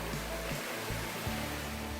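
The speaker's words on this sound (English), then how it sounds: "cave waterfall." Cave waterfall at Krushuna falls in Bulgaria's Lovech region, a continuous rushing wash of falling water, close and steady, with a few low thumps underneath and no talking.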